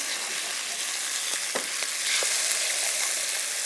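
Chicken frying in a pan with garlic and turning heat, a steady broadband sizzle with a few sharp clicks and scrapes as pieces are turned over partway through.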